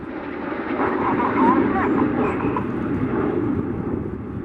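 RAF Red Arrows jets flying a display at the Duxford air show, a loud sustained roaring jet rumble that swells and fades slightly, with a commentator talking over it.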